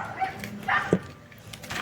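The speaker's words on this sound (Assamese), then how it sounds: "কুকুৰৰ আৱাজ শুনা পাই দৌৰি ক'ত আছে কুকুৰ" A dog gives a few short, faint yips and a soft whimper, with small barks spread across a quiet indoor moment, fairly distant and low in level.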